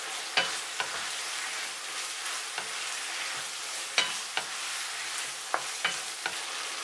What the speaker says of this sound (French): Je remue pendant 15 secondes.